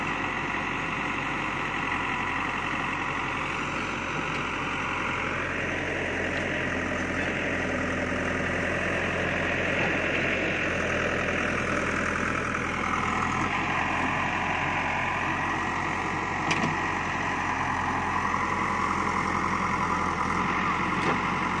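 A stuck JCB backhoe loader being pulled free, its diesel engine running steadily at close range throughout, with the pitch rising and falling as the revs change and no talk.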